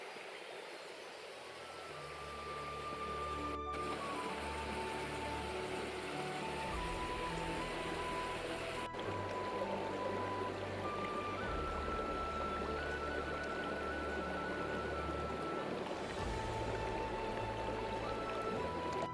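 Water pouring down a jungle waterfall near the Pitalkhora caves, a constant broadband rush that swells after the first couple of seconds and holds steady and fairly loud, with faint tonal sounds drifting above it.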